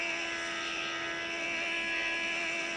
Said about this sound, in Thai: อูนี่เครื่องบินขึ้นเนี่ย